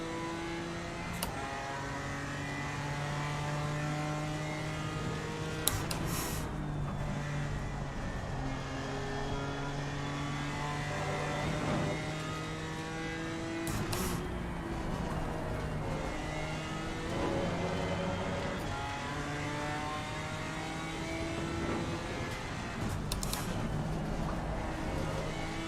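GT race cars in a racing video game drone along as steady, rising and falling engine notes with overlapping harmonic whine. Several sharp bursts cut through a continuous mid-level roar as faster cars close in.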